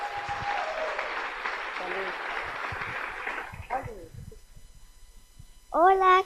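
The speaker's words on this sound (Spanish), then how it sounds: "Démosle más fuerte ese aplauso." An audience at a women's session of a church convention applauds steadily and loudly for several seconds while voices carry over the clapping, which then dies away before a single voice speaks near the end.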